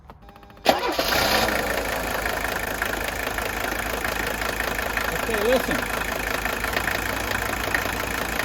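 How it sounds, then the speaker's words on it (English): A 1983 Mercedes 300D diesel engine idles steadily and close after a sharp start, its low clattering rumble running throughout while someone speaks briefly at the start. "This is a 1983 300D, same engine."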